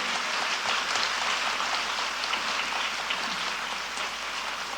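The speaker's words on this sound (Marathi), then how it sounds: "त्यांच्याकडनं खरंच जोरदार टाळ्या व्हायला पाहिजेत" A devotional abhang evening audience applauds teachers with a dense, steady wash of clapping that stays loud and even throughout, with no voices over it.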